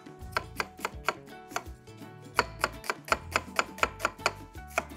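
A very sharp kitchen knife chops onions on a cutting board, a quick run of crisp, close chops that pauses briefly and then resumes in a steadier, evenly spaced rhythm.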